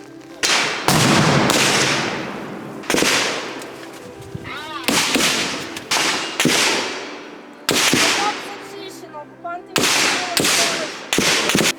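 Loud gunshots ring out one after another at uneven intervals at a shooting range, each with a sharp crack and echoing tail, some in quick pairs, outdoors with distant reverberation.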